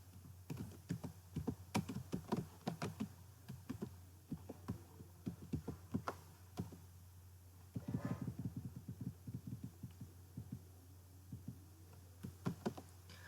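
Computer keyboard typing a company name into accounting software, heard as a steady stream of soft, quick key taps over a low electrical hum, fairly faint and close.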